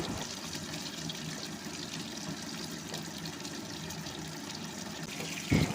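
Milk pudding mixture thickened with cornflour poured into a nonstick pan and slowly stirred, giving a steady soft liquid wash throughout with a brief louder knock at the end.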